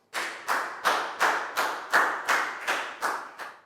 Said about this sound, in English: Big round of applause for Net, please, guys.